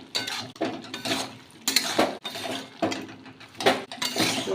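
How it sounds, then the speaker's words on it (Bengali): Fig and shrimp curry (dumur chingri) being stirred in a pan, with repeated close scraping and clinking strokes of a spatula against the metal, coming in rhythmic bursts with short pauses, loud and without talk. "চিংড়িটাকে দিয়ে ভালো করে নেড়ে চেড়ে মিশিয়ে একটু জাল দিয়ে"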